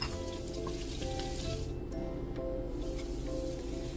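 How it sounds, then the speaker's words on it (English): Garlic sautés in a pan for a simple Filipino vegetable dish in a home kitchen, giving a steady soft sizzle and hiss throughout with no talking. "So we start by sauteing the garlic."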